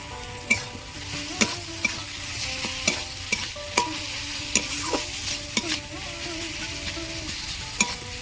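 Steady sizzling of chopped onion frying in a hot pan for a pangas fish curry, with sharp clinks of a spoon stirring against the pan every second or so.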